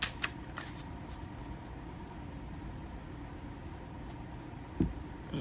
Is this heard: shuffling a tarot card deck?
yes